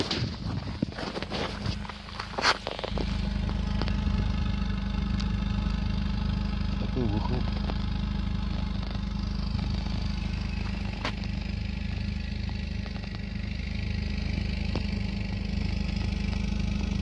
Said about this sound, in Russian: Слышим то, как форсунки работают.